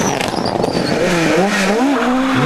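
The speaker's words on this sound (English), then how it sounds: "Lighting up the rear tyres and evoking fond memories of its competition heyday, Kenny McKinstry is really enjoying his ride" A Ford Escort Mark II rally car at the Lurgan Park Rally spins its rear tyres, letting out loud, wavering tyre squeal over a strained, revving engine, close and continuous throughout.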